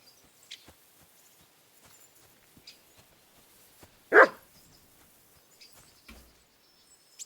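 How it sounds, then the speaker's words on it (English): A dog barks once in the medieval world of Kingdom Come: Deliverance 2, a single sharp bark at mid-distance amid quiet ambience with faint hoof-like clops and light ticks. "Barking."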